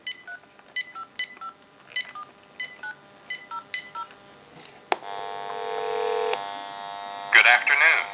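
A quick series of touch-tone dialing beeps from a General Electric 6.0 cordless telephone, about nine short tones in rhythm, followed by a steady electronic tone and a brief burst at the end.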